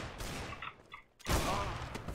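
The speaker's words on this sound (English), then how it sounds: "He shot me through the wall, he didn't know where I was." Gunfire in the video game CS:GO, a muffled burst of shots followed by a short lull and then a louder, sustained volley of rapid rifle fire close by.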